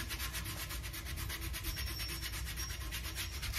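Sandpaper worked by hand over an aged vessel in steady, rhythmic back-and-forth strokes, a close, continuous rasping scrub with no talking.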